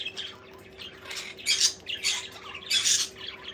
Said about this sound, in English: It's great to have the budgie sounds back in here